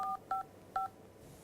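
A soft phone dials an extension during a FortiSwitch secure access demo, giving three short dual-tone keypad beeps at an uneven pace, fairly faint over a low room hiss.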